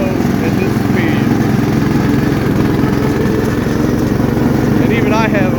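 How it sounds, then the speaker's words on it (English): A riding lawn mower (lawn tractor) mowing a yard at speed, its engine a loud, steady, close drone running unbroken throughout, with brief voice-like sounds over it. "It takes a bit of practice to be able to mow at this speed,"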